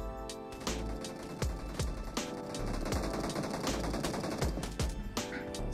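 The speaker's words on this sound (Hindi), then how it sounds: "बहुत ही तगड़ी वाली ये मशीन गन लग रही है भाई" A PKM machine gun fires in PUBG in repeated short bursts, heavy and punchy, with more distant shots from other players mixed in at a steady, moderately loud level.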